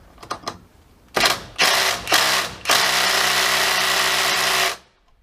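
DeWalt hydraulic impact driver working on a stuck fastener: a few short trigger blips, then two brief bursts, then a sustained loud whirring hammer for about two seconds before it stops, no talk.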